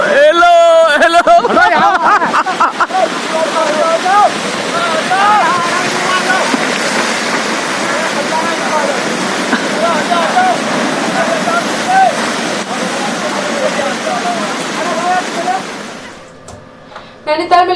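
Continuous heavy rain pours down in Nainital, a loud steady wash of noise lasting over fifteen seconds before it cuts off briefly near the end.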